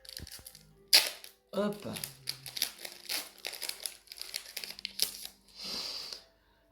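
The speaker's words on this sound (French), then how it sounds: "C'est les pires boosters qui soient, c'est vraiment une horreur à ouvrir." Pokémon card booster packs being torn open, with sharp crinkling and ripping bursts of foil wrapper between short spoken remarks, close and loud.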